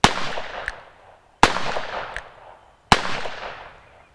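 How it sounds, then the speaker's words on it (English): Three sharp, loud gunshots from old, neglected .357 ammunition, spaced about a second and a half apart, each with a short ringing decay outdoors. "This is the last 6 that I'm shooting, then Alex has 4"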